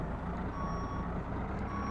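Garbage truck backup alarm in American Truck Simulator, a steady repeating high beep sounding close over a continuous low diesel engine rumble, with no talking.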